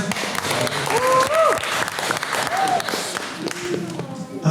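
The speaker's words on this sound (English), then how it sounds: "Another round of applause for him, guys." Audience applause at a panel discussion and arts performance event, a steady, loud round of clapping filling the room, with brief voices and cheers rising over it before fading near the end.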